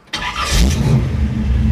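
A 1967 Chevrolet El Camino V8, a movie car with roll bars, cranks and fires up, settling into a loud, steady, rumbling idle close by.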